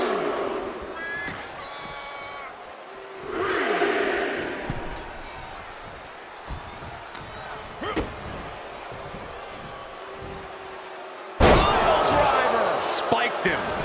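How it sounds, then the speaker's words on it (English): A wrestling arena crowd in the WWE 2K24 video game rises and falls in loud cheering swells, with heavy slam impacts and sharp thuds landing at intervals, ending in a big surge of noise. "Macho Man Randy Savage getting the crowd riled up right now."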